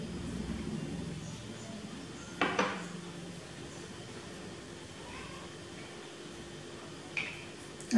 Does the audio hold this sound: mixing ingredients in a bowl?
yes